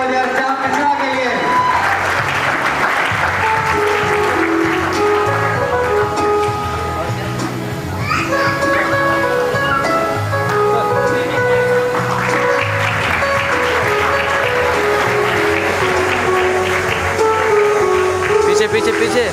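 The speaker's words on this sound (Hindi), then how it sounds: "एक बार जोरदार तालियां हो जाए श्याम मिश्रा के लिए।" A crowd at a college freshers party claps, with loud, dense applause and cheering that swells, dips briefly, then rises again over a music bed, with voices and an announcer speaking over it.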